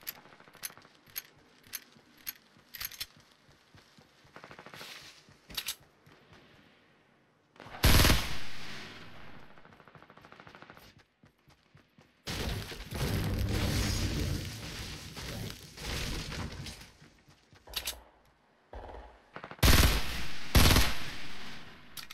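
Gunfire in Fortnite crackles as rapid bursts of shots, starting with a fast run of separate reports, then longer loud stretches of sustained automatic fire and booming impacts, close and punchy, with quiet gaps between volleys.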